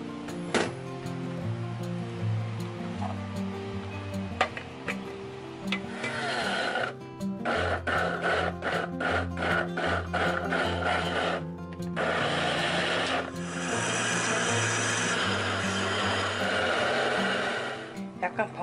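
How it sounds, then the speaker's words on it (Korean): Kitchen blender grinding pear and apple, a loud buzzing motor that shifts pitch and texture as the fruit breaks down, with a brief pause and restarts, while someone talks over parts of it. "양파도 갈 거지만 우선 배하고 사과하고 먼저 두 가지만 넣고 갈게요."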